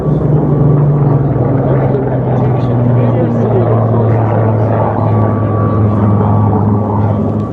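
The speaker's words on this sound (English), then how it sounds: "The Hellcat, a large aircraft." A Hellcat warplane, a large World War II fighter, drones steadily overhead at an airshow, its low engine hum and propeller rumble continuous and loud throughout, with crowd voices talking underneath.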